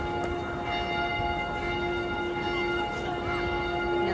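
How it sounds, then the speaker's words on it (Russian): Church bells of the Frauenkirche ringing in the old town, a sustained resonant peal with steady humming tones, heard from a distance outdoors over faint street ambience. "Вы можете услышать, колокола звенят."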